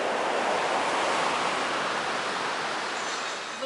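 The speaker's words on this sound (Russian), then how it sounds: "сегодня море, видите, какое? Да. Штормящее." Stormy sea waves surge in a dense, roaring wash of surf that stays loud and constant, with wind mixed in and no voices.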